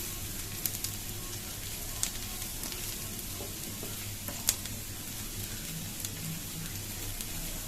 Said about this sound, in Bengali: পেঁয়াজটা কিন্তু খুব ভালোভাবে ভেজে নিতে হবে